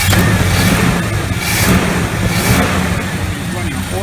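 1979 Chevrolet Malibu V8 running on all eight cylinders after a start, with a slight exhaust leak at the header; a loud, continuous rough engine rumble with pulsing surges, and talk over it.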